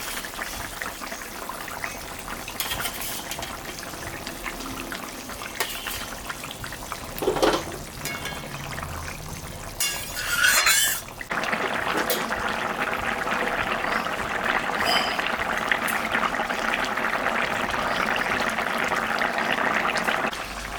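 Chinese puti fish go into a bottle gourd curry simmering in a pot, a low bubbling hiss with a couple of brief splashes and clatters, then a louder, steady sizzling bubble that continues to the end.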